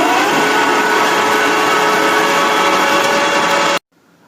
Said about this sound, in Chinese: 一启动吱一声，那个声音特别大